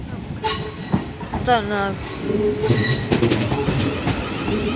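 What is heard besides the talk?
Class 450 train arriving at London Waterloo platform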